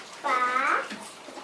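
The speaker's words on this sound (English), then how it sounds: "The water is just to clean the brush." A paintbrush swished in a small container of water during a children's craft session: one short, close sloshing rinse, with quiet room sound around it.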